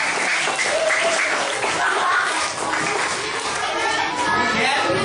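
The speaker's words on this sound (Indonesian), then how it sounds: "Nah, tepuk tangan buat kelompok berapa?" A classroom of schoolchildren clapping together during a math lesson, dense, even applause lasting several seconds with children's voices mixed in.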